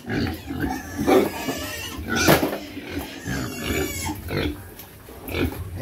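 Four large farm pigs grunting and snorting over feed, a close, irregular run of loud grunts and chomping bursts that continues without pause.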